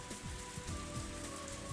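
Steady rain sound effect from a visual novel video game, a soft, even patter of drops on a surface with no voices over it.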